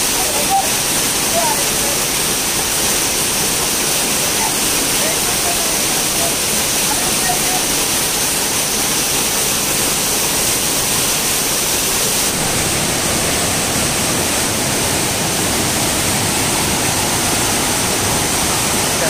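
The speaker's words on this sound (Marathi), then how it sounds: "हा बाजूला जो व्हाळ वाहतो तिथूनच तो धबधबा खाली वाहतो" A hidden waterfall fed by a small stream near the Shri Siddh Ganesh temple in Shirvande village roars steadily and loudly, a continuous close rush of falling water with no break.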